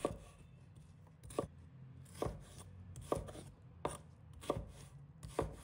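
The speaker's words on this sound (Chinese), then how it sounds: "红葱头切成小块。" A knife chops shallots into small pieces on a board, each stroke a sharp, distinct knock at an uneven, unhurried pace, close and clear over a quiet room.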